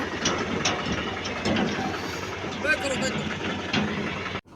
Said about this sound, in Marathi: JCB दाखवतो बघा हा JCB आहे